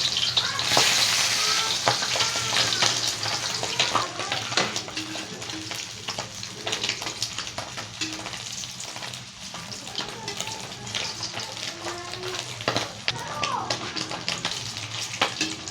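Moonfish (sapatero) fries in hot oil in a pan, a loud, close, continuous sizzle with crackling pops and brief stirring sounds, no voices.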